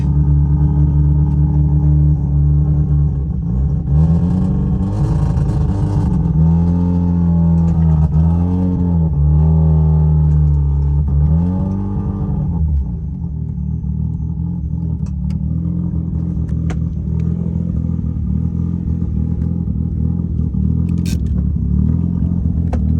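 Car engine after a cold start running rich, idling steadily with a few rising and falling revs early on, then settling back to a loud, even idle.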